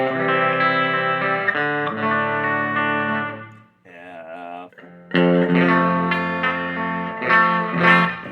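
Electric guitar played clean through a Fender Bandmaster Drip Edge 68 amp into a Fender 2x15 cabinet with a touch of reverb, sustained ringing chords and single notes with a brief pause midway.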